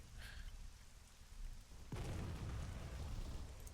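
Artillery strike explosion on a building in the Arma 3 video game, a sudden loud blast about halfway through followed by a sustained low rumble over steady background noise.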